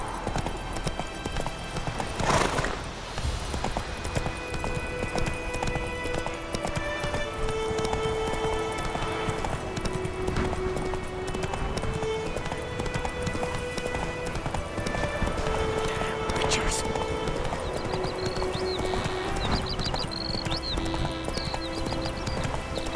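Roach, the horse in The Witcher 3, gallops with fast continuous hoofbeats, loud and near, over game ambience and music with a brief whinny.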